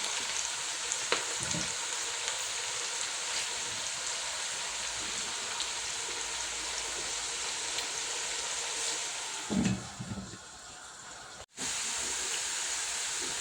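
Onions frying in a pan for beef pilau, with a steady close sizzle and hiss, a brief stir near the end and a short gap before the sizzle resumes.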